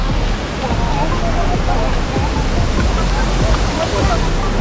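Bolinao Falls in Pangasinan roars as a steady, loud wash of falling water, a dense unbroken rumble that holds for the whole stretch with no voices standing out.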